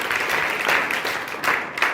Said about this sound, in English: So first of all, a big round of applause for Devlok ji.